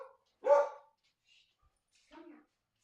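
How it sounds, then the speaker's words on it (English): A dog barks indoors, one sharp, fairly loud bark followed after a pause by a second, softer bark, with near silence around them. "Stop barking."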